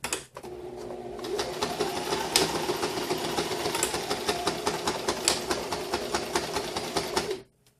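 A sewing machine stitches a lanyard forward and then back in one continuous, close, rapid whir with a fast rhythmic patter, stopping abruptly at the end.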